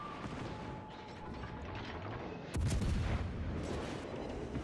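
Heavy naval gunfire from warships in World of Warships: Legends, a dense rumble of shell impacts and battle noise that jumps to a loud, booming salvo midway and stays thick and loud to the end.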